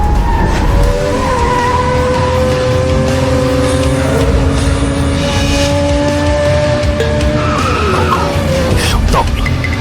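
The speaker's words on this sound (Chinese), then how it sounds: "陈峰，他会提前刹车，你比他晚刹10米，直接切入内线。" A race car brakes hard and skids, its engine note falling with tyre squeal over loud, constant car noise throughout.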